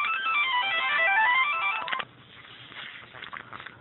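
A telephone rings with a bright electronic ringtone melody for about two seconds, loud and close, then cuts off and leaves only faint room noise.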